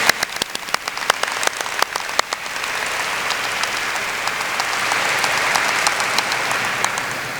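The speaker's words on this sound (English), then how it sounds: "Let's give them all a big round of applause for their support." A graduation audience applauds, starting with a few loud, sharp individual claps that quickly swell into a broad, sustained roar of clapping from a large crowd.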